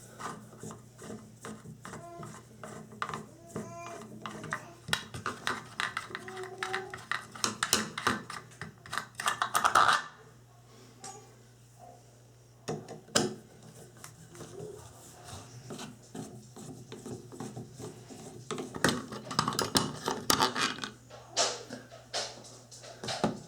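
Phillips head screws being worked out of a Moen Posi-Temp shower valve cover, with irregular scraping, rubbing and small metallic clicks close up, interrupted by a brief pause, all without talk.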